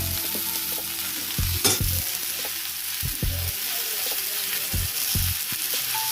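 Eggplant, potato and onion frying together in a pan. A loud, continuous sizzle is broken by several dull knocks and scrapes from stirring, with no one speaking.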